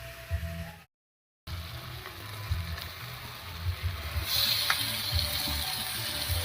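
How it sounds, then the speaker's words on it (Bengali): Meat sizzling and frying in a pan of cooked-down spiced masala for a Bengali mankochu dish, a steady close crackling hiss with a brief silent gap near the start. "মাংসের ডাটাটা দিয়ে সব কিছুর সঙ্গে একটু ভাজা ভাজা মতো করে নেবো"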